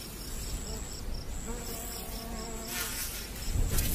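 Harvester ants swarm and take flight above ground in northern Arizona, a dense, continuous insect buzz and whine with faint high tones running throughout.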